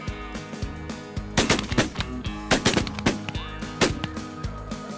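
Several sharp shotgun blasts at ducks ring out in quick succession, loud and close, over a steady outdoor background with faint low rumble during a duck hunt.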